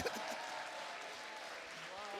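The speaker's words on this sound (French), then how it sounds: "Est-ce qu'on peut applaudir encore très très fort, mesdames, messieurs?" An audience at a French wedding celebration evening claps steadily, a faint, continuous wash of applause throughout.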